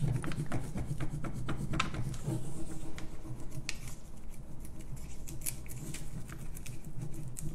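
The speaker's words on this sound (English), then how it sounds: "So just peeling back gently." Gentle peeling of a paper transfer from a steampunk trunk being painted, soft crackling and rubbing textures, faint and continuous with light ticks, no speech.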